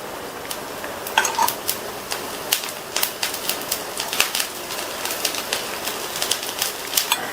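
Uttapam batter cooking in oil on a dosa griddle, a steady crackling sizzle with sharp spits and pops scattered throughout, fairly close and continuous with no voices.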